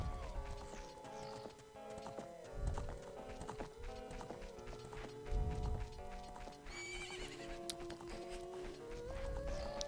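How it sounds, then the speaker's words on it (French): A horse in the Zelda: Ocarina of Time video game whinnies and clip-clops at a steady trot on the ranch, set against continuous game music with chiming melodic tones and no talking. "Un cheval se balade."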